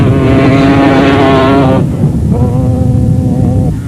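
Racing quad bikes, a Honda 400 and a Yamaha Banshee 350, whine loudly at high revs close by, the pitch shifting as they pass and gear changes break the drone.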